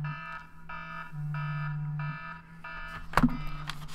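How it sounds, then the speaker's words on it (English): An alarm goes off in a series of evenly spaced electronic beeping bursts, about seven in a row, close and fairly loud, ending with a sharp thump. "Oh man, my alarm is blowing."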